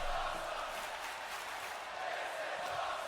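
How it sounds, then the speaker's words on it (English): Crowd at a pro wrestling event cheering and roaring, a dense continuous wash of voices heard from a distance without pauses. "And the crowd is going crazy."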